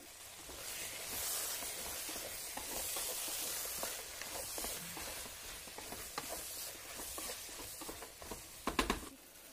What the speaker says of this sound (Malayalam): ടൊമാറ്റോ സോസ് ഒരു 2 ടേബിൾ സ്പൂണോളം ഒഴിച്ചു കൊടുക്കണം